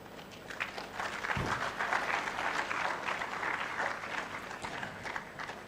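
An audience applauds at a speech in Ghana, with steady, dense clapping from a crowd that lasts several seconds. The sound is moderately distant and fairly quiet.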